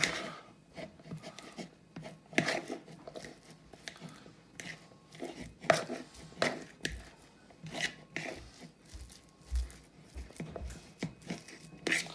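Food is mashed on tin foil, making soft, irregular squishing, crinkling and tapping sounds close by and fairly quiet, with uneven pauses between presses and no talking.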